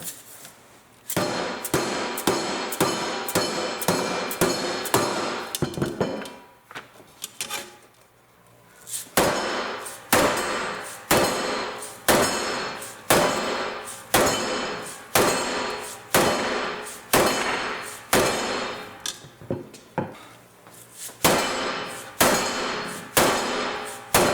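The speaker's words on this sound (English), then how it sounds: "Maybe we can start hitting it with the hammer." A hammer strikes the bent metal panel of a Marantz 2230 receiver, with rapid series of sharp, loud metallic clangs close by, pausing briefly midway and then continuing in bursts.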